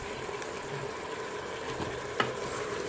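Onions are stirred in a Cookeo pot, giving a low, steady frying hiss with a few soft scrapes and one sharp utensil click, and no talking.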